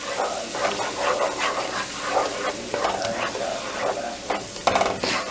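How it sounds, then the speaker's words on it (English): Vegetables being stirred with ketchup in a hot pan after the flame is turned off, giving repeated scraping and soft sizzling strokes at close range with no talk. "Mix in your ketchup."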